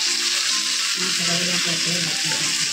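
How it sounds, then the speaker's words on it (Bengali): Fish pieces sear in a pan coated with spice paste, giving a steady, close oil hiss throughout with low tonal murmurs mixed in beneath. "মাছগুলো দিয়েও আমি একটুখানি কষিয়ে নিলাম"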